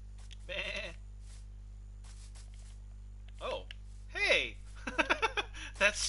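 Sheep in Minecraft bleat several times in short wavering calls between quiet gaps, fairly close, with a low steady hum underneath and a few sharp clicks near the end.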